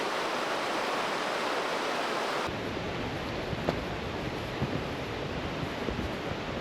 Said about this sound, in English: It carries fresh glacier water and flows into the Clearwater River after 90 kilometers.